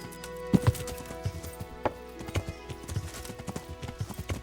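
A horse's hooves clip-clop on hard ground in Kingdom Come: Deliverance, with steady, uneven strikes repeating throughout at moderate loudness and no talking.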